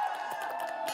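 A dense crowd of K-pop fans at a music show recording cheers and screams continuously, a loud bright wash of many voices with no pauses.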